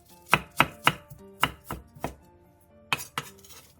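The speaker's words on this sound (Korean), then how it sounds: "고명으로 함께 넣을 대파 두 개는 어슷 썰어서 준비해주세요." A knife chops two green onions diagonally on a cutting board, making about nine sharp, close thuds in uneven pairs and runs with short pauses between them, with no talking.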